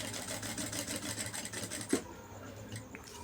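A sewing machine stitches an embroidered blouse with a steady, rapid whirring hum and rhythmic needle ticks for about two seconds, then stops with a click, leaving quiet room tone.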